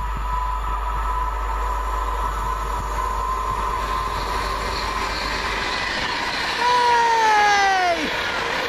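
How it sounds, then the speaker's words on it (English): A Virgin Trains service from Glasgow Central to London Euston rolls by at Adderley Park with a loud, steady rumble, and high, sliding wheel squeals rise over it toward the end. "Next up, Virgin Trains, 9 Mike 84 from Glasgow Central to London Euston"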